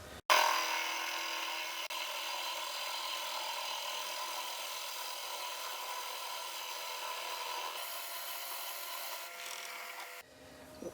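A drill boring down the centre of a yew wood blank spinning on a lathe gives a steady, loud grinding hiss that holds evenly for about ten seconds before cutting out abruptly.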